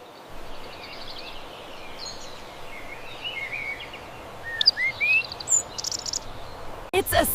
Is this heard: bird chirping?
yes